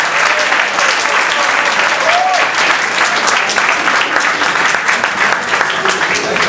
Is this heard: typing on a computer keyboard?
no